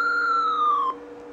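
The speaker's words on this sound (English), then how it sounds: "It's a pretty cool end of level teleport sound." End-of-level teleport effect from an EGA/VGA game on an IBM PS/2 Model 50z 286: a single clear synthetic tone that slides slowly downward for about a second, then cuts off abruptly.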